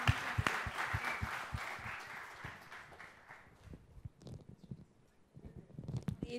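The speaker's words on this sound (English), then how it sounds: "Can you have a round of applause?" An audience applauds after a talk at the Social Media Week 2014 conference: a dense burst of clapping fades out over a few seconds, then scattered claps pick up again near the end, with no talking.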